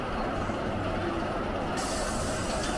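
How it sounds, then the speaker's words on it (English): Air brakes hiss on a small amusement park train at Knott's Berry Farm, a continuous loud broadband rush with a brighter, sharper release partway through. "Air brakes."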